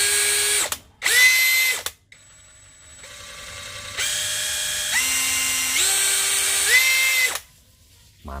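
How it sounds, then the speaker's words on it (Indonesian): Dongcheng DCJZ2060i power tool after a rotor replacement, revved in short bursts then held at high RPM, a loud close whine that rises and steps up in pitch before cutting off. "Saking kencangnya ya RPM-nya, suaranya jadi melengking seperti itu."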